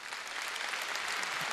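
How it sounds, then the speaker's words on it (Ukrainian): Audience applause at a Ukrainian event honoring a singer, a dense, even patter of many hands clapping throughout. "Вам також аплодисменти."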